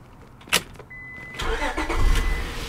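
A 2001 Honda Accord EX V6 with a suspected coil misfire cranks briefly, catches and settles into a rough idle, heard up close after a single click.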